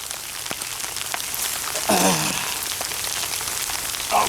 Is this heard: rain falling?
yes